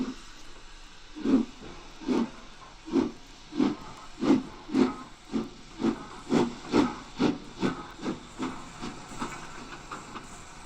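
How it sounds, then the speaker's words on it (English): A steam train from Fairford enters Witney station beneath a bridge, giving a steady run of rhythmic, hissing exhaust chuffs heard at moderate distance, about two per second, over faint background noise. "a train from Fairford enters Witney beneath bridge number 10"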